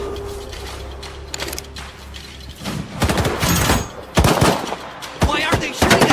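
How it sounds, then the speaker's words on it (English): Gunfire in the shooter STALKER 2 rattles in sharp bursts and scattered loud shots that grow denser and closer over a low rumbling background. "Why are they shooting at us?"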